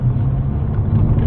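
Low, steady engine rumble from a Mercedes-Benz A45 AMG Petronas Green Edition driven gently at part throttle, heard from inside the cabin as a continuous hum without speech.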